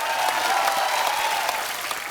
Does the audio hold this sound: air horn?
no